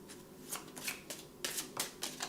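Life Purpose oracle cards shuffled by hand up close, giving a quick series of crisp riffling bursts with short pauses between them and no talk.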